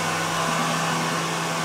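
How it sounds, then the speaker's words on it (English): A hand dryer in a restaurant toilet blows with a steady, loud, close whooshing roar and a constant motor hum, heard alone. "Does the hand dryer work?"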